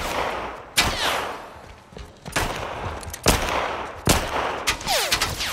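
Gunfire in The Last of Us Part 1 cracks out in several sharp, loud bursts spaced a second or so apart, with ringing echoes and debris noise trailing each shot.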